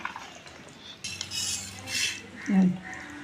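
A spoon stirs mango pickle with oil in a steel vessel, making a few close metallic scrapes and clinks, ending in one brighter ring.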